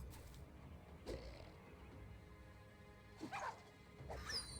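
A dog barks a few times inside the medieval tactical combat game Battle Brothers, short sharp yelps mixed with fight clatter over a steady low game background, fairly faint.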